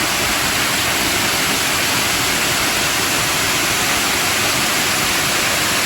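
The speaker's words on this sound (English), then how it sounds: "is a beautiful waterfall." A snowmelt-fed waterfall pours steadily beside a small beach and swimming area, its broad, dense rush close and loud and constant throughout, with no voices.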